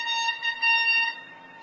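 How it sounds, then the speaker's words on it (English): A bus passes by near a guava tree at Huaca Rajada, giving a steady, horn-like tonal drone that holds for about a second, then eases off as it moves away, heard alone without talk. "Just the bus going by."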